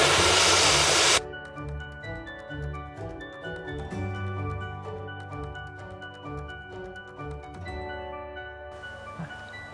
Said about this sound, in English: we're gonna blow dry up